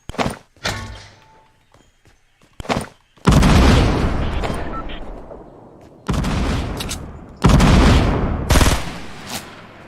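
Grenade blasts in the Fortnite battle royale game, a few scattered thuds and pops followed by several loud, close booming explosions that each roll off into a long decaying rumble.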